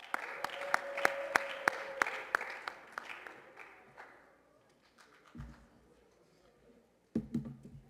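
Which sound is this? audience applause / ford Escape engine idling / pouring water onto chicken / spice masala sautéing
audience applause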